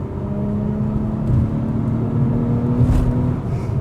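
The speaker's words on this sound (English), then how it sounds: "I'm just kind of letting the car speak for itself because this is the type of car you just have to drive it" Acura TLX Type S engine pulling hard on a backroad, a steady, loud rumbling drone with a rising whirring tone that swells as it accelerates, no talking.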